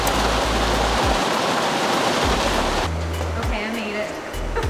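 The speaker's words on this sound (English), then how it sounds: "As you can hear, the rain is really coming down." Heavy rain pours down steadily outdoors near Charlotte plant nurseries, a loud, dense hiss throughout, with a low rumble that shifts partway through as if moving under cover.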